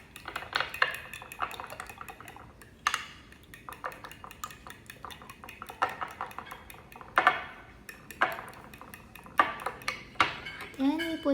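A metal utensil stirring eggs in a bowl for French toast, with steady repeated clinks and scrapes against the bowl in an uneven rhythm, close and fairly clear, with a brief higher ping near the end.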